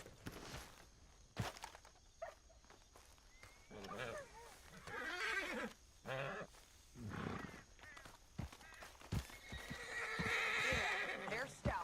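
Horses in the Red Dead Redemption 2 video game snort and whinny amid clip-clopping hooves in a canyon, several distinct calls close by, with characters talking between them.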